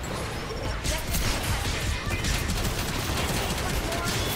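Rapid turret gunfire in a shooter game, a dense continuous rattle of shots with crashing impacts running throughout, loud and close, with a voice talking over it.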